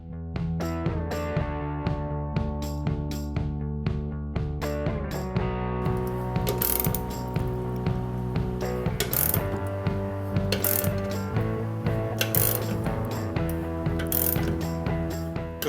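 A ratcheting puller clicks in quick repeated bursts as it slowly draws out a crushed pinch weld on a classic car, the metallic ratchet sounding close and steady throughout.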